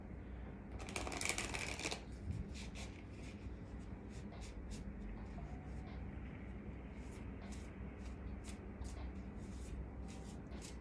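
Playing cards are shuffled nearby in a brief, crisp riffle burst, followed by soft scattered card flicks and taps over a faint steady background hum.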